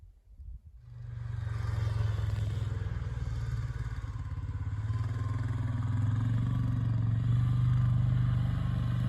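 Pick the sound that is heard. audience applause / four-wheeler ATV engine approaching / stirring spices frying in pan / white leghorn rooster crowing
four-wheeler ATV engine approaching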